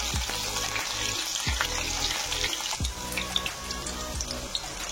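Green chillies fry in hot oil in a home kitchen pan, a steady close sizzle with repeated low thumps and scraping as they are tossed and stirred, no voices.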